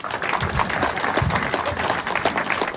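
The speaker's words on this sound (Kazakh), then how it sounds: "Не деген шапалақ мынау." Applause from an audience at a school graduates' gathering: dense, sustained clapping from many hands, loud and close, with faint voices mixed in.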